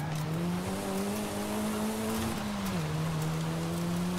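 A Mitsubishi Lancer Evo III GSR rally car's engine drones steadily in fifth gear in Forza Horizon 5, straining to gain speed, its pitch rising slowly, dipping briefly, then holding. Loud and close, with no talk over it.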